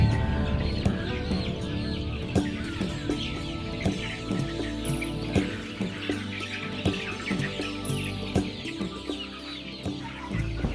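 A dense flock of young laying hens on a poultry farm clucks and chirps continuously, many birds overlapping close by in a busy, steady chorus.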